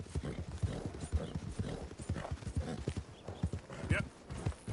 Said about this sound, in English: The Dutch warm blood. A good horse, though, nonetheless.